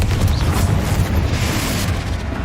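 A Confringo spell explosion in the video game Hogwarts Legacy, with a loud, sustained, rumbling blast of dense low roar filling the whole moment, no voices over it.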